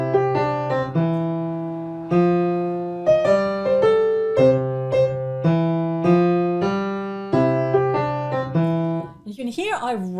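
A piano plays a piece with a bouncy, syncopated rhythm of bright chords and single notes, a group of three notes played too fast, and a brief voice enters near the end.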